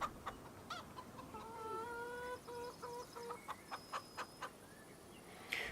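Chickens cluck inside a chicken shed in Farming Simulator 25, a steady run of short, evenly spaced clucks at moderate volume with no voices over them.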